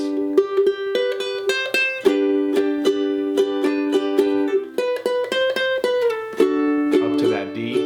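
Ukulele strummed through the chords of a song, a steady rhythmic strum with ringing chord changes, close and fairly loud, played alone without voices.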